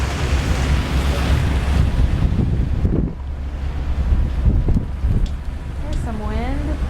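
Strong wind buffets and roars during a Chicago snow blizzard in 2011, a loud steady gusting rush with rumbling microphone buffeting throughout, and a brief faint voice-like tone near the end.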